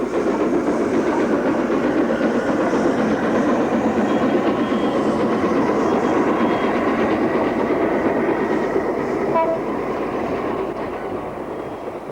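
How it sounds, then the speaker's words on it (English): Preserved steam locomotive Blue Peter on a demonstration run at Didcot, a loud continuous rolling rumble of the engine and carriages that eases slightly toward the end. "This locomotive, Blue Peter, is preserved and is seen firstly in the last days of steam on British railways"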